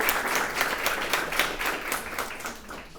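An audience applauds after a presentation, a steady wash of many hands clapping at moderate volume that fades slightly toward the end, with no speech over it.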